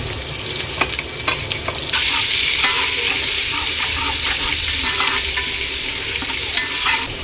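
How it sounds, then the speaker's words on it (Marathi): Cumin, ginger and garlic drop into hot oil and burst into a loud, steady sizzle after a few sharp stirring clinks, the frying continuing close and alone without speech. "तेल चांगलं तापलं आहे, मध्ये जिरं टाकते. तर पहिले टाकते आलं लसूण,"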